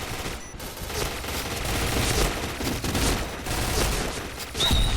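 Rapid bursts of K2 rifle fire in the shooter game Point Blank, with dense overlapping shots close up and loud, continuing steadily through the whole stretch.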